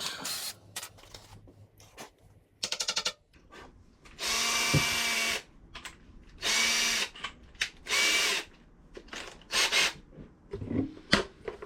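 Several bursts of a power drill whirring, each lasting about a second, with short pauses between and some handling clatter and scraping in the gaps.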